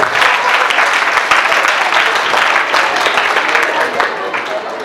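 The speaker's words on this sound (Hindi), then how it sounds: "जोरदार तालियां बजाओ" Loud, sustained applause from a live audience at a Hindi comedy poetry gathering (hasya kavi sammelan) held at a girls' college, dense clapping filling the whole stretch without a break.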